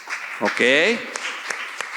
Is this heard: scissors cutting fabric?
no